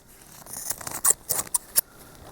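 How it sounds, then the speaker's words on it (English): Scissors snip through crochet yarn at the end of a slip stitch, a few short, crisp cuts close to the mic with quiet pauses between them and no talking. "I cut the thread."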